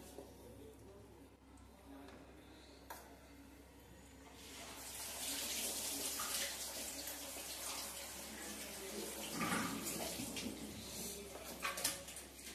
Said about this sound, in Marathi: तेवढी बॉटल तोपर्यंत भरून ठेव मडक्यातून, नाहीतर फ्रीज याच्यातून नळानेच भरतो डायरेक्ट